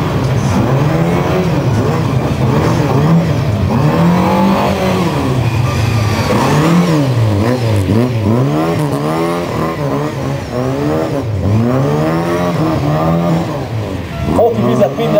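A car revving hard while drifting on winter tires at a winter drift party in a supermarket car park in Salgótarján: loud, continuous engine wails rising and falling repeatedly, close, with people talking over it.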